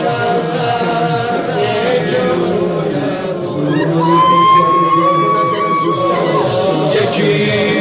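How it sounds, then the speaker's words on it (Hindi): Thousands of people crowding the streets for the funeral procession of Iranian commanders, a dense, continuous crowd roar with scattered shouts and a sustained chant-like call rising midway, steady and fairly loud throughout. "हजारों की भीड़ सड़कों पर थी"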